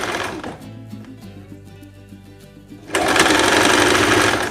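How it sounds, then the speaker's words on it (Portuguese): A sewing machine runs a straight seam on a dress, its motor whirring softly at first and then jumping into a loud, fast, steady stitching buzz for the last second and a half. "vai passar uma costura reta e depois você faz o acabamento"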